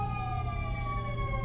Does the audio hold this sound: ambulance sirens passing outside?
yes